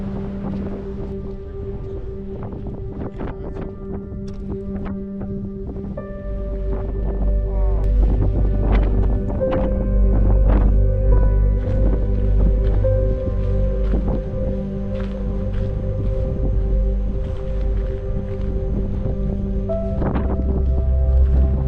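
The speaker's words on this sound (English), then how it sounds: "We had actually planned a hike, but the wind is so strong." Strong, cold wind on the summit of Mount Ulriken above Bergen in stormy weather roars and buffets the microphone continuously, with deep rumbling gusts that swell louder partway through.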